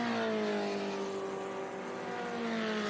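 A pack of vintage race cars at Mid-Ohio, engines blending into a continuous loud droning roar with steady pitch and a slight dip midway, no talk over it.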